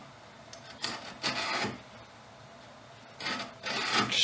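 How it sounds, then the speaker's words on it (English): Chisel dragged back through a wood panel groove about 5-6 millimeters deep, clearing fibers with soft rasping scrapes in a few strokes, close and fairly quiet. "Just drag the chisel back so that the corners can clear out the fibers in there."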